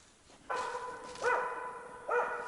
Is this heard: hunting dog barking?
yes